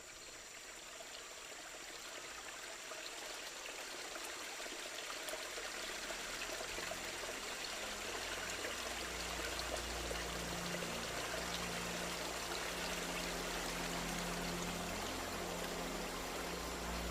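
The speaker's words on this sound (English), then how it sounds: "The swelling river surges through the forest." The flooded Las Piedras River surges through rainforest, a steady broadband rush of rushing water that holds constant and fills the scene throughout.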